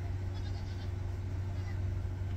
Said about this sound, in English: Apparently the goats baa at sunrise